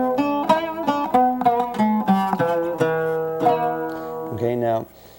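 An oud plucks a run of single notes in Hijaz Kar mode starting on E, moving through the scale with ringing, resonant tones before the last note is cut off.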